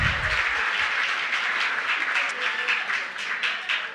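A steady wash of audience applause fills the room for a council member at an Emancipation Day breakfast with the mayor, dense, continuous clapping from many hands at moderate distance.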